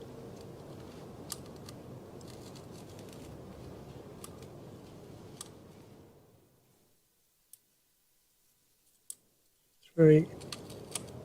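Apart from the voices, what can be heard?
clicking suspension damping adjuster on CFMOTO 800 MTX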